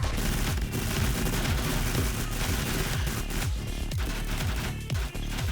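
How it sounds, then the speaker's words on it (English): Rapid, continuous SMG gunfire from the video game 7 Days to Die fills the whole stretch, dense automatic shots rattling without pause, loud and close. "I can actually use my SMG, which I prefer"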